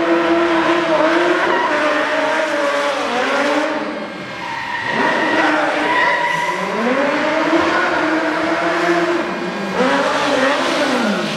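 Modified stunt cars performing at a Hollywood Studios stunt show, engines revving and tires squealing in long sliding skids that rise and fall in pitch, loud and close, repeated several times with no talk.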